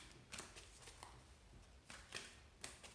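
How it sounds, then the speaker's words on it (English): A deck of tarot cards with slightly sticky faces being shuffled close up, faint papery riffles and soft slaps arriving in short bursts with quiet gaps between them. "These cards are really hard to shuffle with."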